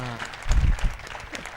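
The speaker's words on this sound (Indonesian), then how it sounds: "Tepuk tangan dulu tau buat BNPT." A television talk show studio audience applauds for BNPT in a short burst of clapping that sits under a speaking voice.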